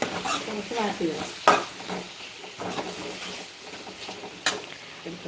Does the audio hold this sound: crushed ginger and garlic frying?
yes